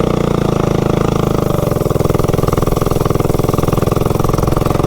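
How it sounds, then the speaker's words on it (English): A mini bike's small engine runs steadily on a new cheap clutch, a loud, continuous buzzing drone with a fast even pulse throughout, close up and with no talking. "So the bike ran really well with this clutch."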